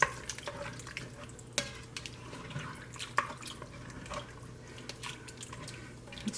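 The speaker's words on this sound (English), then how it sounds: "Just give it a stir." Okra stew being stirred in a pot: soft, irregular scraping and sloshing with a few sharper knocks against the pot, over a low steady simmering background.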